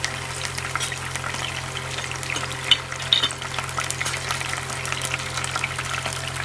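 Whole spices (shahjeera, cardamom, cloves, cinnamon stick and marathi moggu) and curry leaves fry in hot oil for a bottle gourd paneer curry, giving a steady, close crackling sizzle throughout with no talking.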